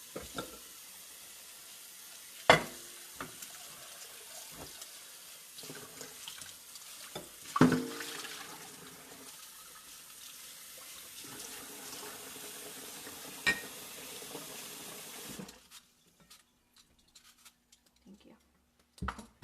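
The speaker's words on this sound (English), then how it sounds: "Are you able to rinse the blue bowl?" Running tap water streams steadily as a blue bowl is rinsed at a kitchen sink, with occasional clinks and knocks of dishes, then the flow stops and quieter handling sounds follow; a person speaks briefly.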